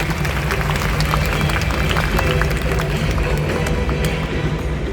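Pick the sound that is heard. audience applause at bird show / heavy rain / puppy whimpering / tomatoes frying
audience applause at bird show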